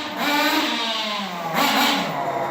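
A Kyosho nitro-engine RC car revs hard and continuously at night in Majang-dong, Seoul, its high buzzing whine rising and falling in pitch across the throttle pulls, close and loud with no talk.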